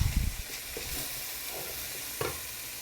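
Onions sauté in a pan for a one-pan chicken and rice dish, a close steady sizzle broken by a few scraping stirs at the start and a short burst near the end.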